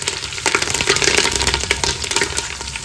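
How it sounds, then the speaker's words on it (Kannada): Curry leaves and grated coconut frying in hot oil for a tempering, a dense, continuous crackling sizzle with scattered pops and spatters, loud and close throughout, no voices. "ಸ್ವಲ್ಪ ಕರಿಬೇವು, 1 ಚಮಚದಷ್ಟು ತೆಂಗಿನಕಾಯಿ ತುರಿಯನ್ನು ಸೇರಿಸ್ಕೊಂಡು ಚೆನ್ನಾಗಿ ಫ್ರೈ ಮಾಡ್ಕೊಳ್ಳೋಣ"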